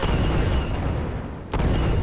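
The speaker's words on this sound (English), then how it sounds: "Scans indicate her hull is weakening, Delta Squad. We're coming in for a strafing run." A dense, continuous roar of blasts and weapon fire from a strafing run over Kashyyyk in Star Wars Republic Commando fills the whole stretch, loud and unbroken apart from a brief dip before a sharp burst near the end.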